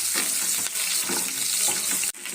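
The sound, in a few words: onions frying in a pan for ridge gourd curry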